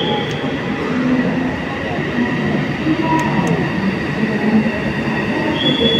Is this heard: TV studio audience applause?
no